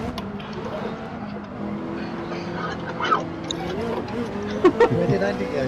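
Race cars in the video game Gran Turismo 7 drone and shift pitch as they drive, with engine tones rising and falling under steady talk.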